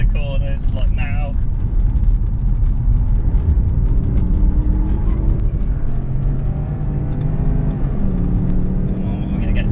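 A Porsche Cayenne S SUV driving fast on a race track, a steady loud engine drone and road rumble heard from inside the cabin, with a few brief tonal chirps over it.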